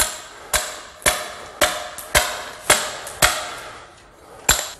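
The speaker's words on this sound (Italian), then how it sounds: "Questi sono scalpelli di acciaio temperato con dei denti poderosi proprio per la prima sbozzatura a scalpello." A tempered steel toothed chisel roughs out stone under a hammer, giving about seven sharp, ringing metallic strikes at a steady, unhurried rhythm, loud and close with short decays and no talking.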